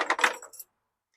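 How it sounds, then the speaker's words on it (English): A set of house keys pulled from a project car rattles in a brief, bright metallic jingle of a few quick clinks that stops abruptly into silence. "Got a set of house keys, it looks like."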